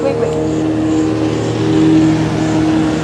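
A car speeds past with a steady engine drone and humming tones that hold for about three seconds, moderately loud, with voices talking underneath.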